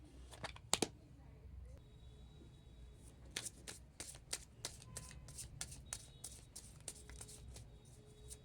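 Tarot cards being shuffled and handled during a reading, giving a quick series of crisp flicks and riffles at close range, some in bursts, over a quiet room background.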